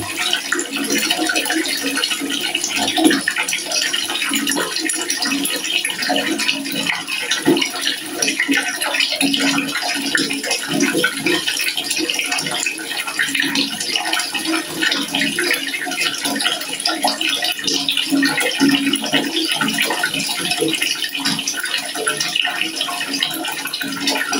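Water running steadily from a tap fed by a Stiebel Eltron water heater under test, a continuous loud rushing hiss with no break.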